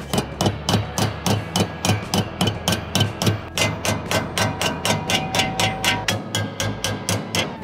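Steady hammering on a welded car bumper being flattened during a bumper repair, roughly twenty sharp metallic blows in an even, quick rhythm, close and loud, with no talking.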